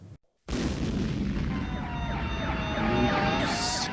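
A siren effect rises after a brief silence, holding loud and steady with warbling tones for several seconds, closing out a tabletop-gaming podcast.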